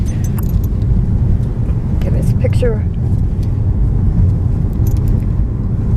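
Low steady road rumble inside a sedan on a dog's first car ride, continuous throughout under a nearby voice, with a few light jangles near the start.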